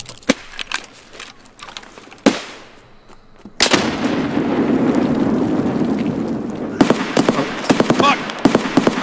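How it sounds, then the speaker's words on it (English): A grenade goes off in the shooter game Escape from Tarkov. A sharp crack is followed by a long rumbling blast that sits among scattered nearby gunshots, with short sharp reports before and after it. "I'm getting my grenade out."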